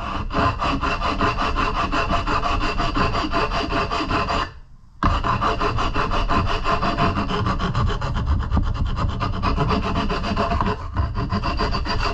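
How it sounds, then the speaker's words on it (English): Continuous rhythmic abrasive rubbing, like sanding and buffing a piece with sandpaper, runs close and loud with a brief pause partway through before resuming. "Now it's got to sand it and buff it."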